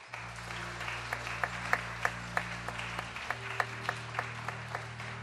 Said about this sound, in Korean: 우리 자리에 앉을 때까지 박수해 주셨으면 좋겠습니다.